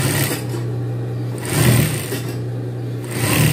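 A sewing machine runs steadily, making small stitches on a men's shirt, a loud continuous motor whir with a rapid needle rhythm that surges slightly twice, with no talking.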